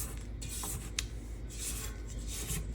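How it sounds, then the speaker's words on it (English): A spatula scrapes down the sides of a mixing bowl of creamed pound cake batter, giving a close, steady rasping rub with a few brief sharper scrapes and no talk. "And I'm also gonna scrape down the sides here."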